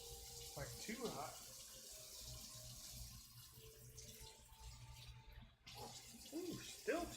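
Hot water from a kitchen tap runs steadily into a sink, a soft continuous splash with someone talking over it.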